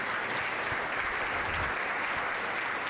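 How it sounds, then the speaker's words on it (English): Audience applause for the title sponsors at a 2025 community event, a steady broadband wash of clapping lasting the whole clip at even volume, with no speech over it. "Let's give them a big round of applause."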